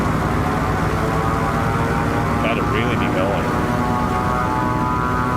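A Piper Cub propeller plane in Microsoft Flight Simulator 2024 drones steadily through its takeoff roll, a constant engine hum under a voice talking over it.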